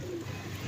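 Pigeon at a pigeon club gives a short, soft low coo, close and faint in a quiet setting.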